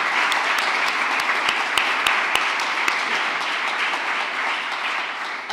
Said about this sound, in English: can we please applaud Secretary Blinken?